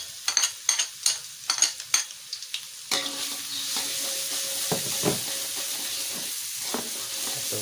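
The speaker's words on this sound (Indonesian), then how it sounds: "minyak sudah mulai panas. Kita masukkan pertama bawang putih dulu. Kita tumis." Garlic hits hot oil and stir-fries in a pan. A run of sharp scraping stirs comes first, then a loud, steady sizzle that crackles on alone.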